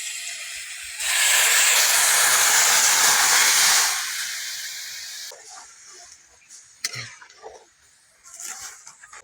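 Vegetables and lentil dal hit a hot pan for a soybean dal, setting off a loud, close sizzling hiss that holds for a few seconds before dying down to a softer simmer with small clatters.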